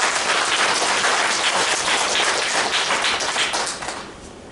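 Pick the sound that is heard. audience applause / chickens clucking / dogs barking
audience applause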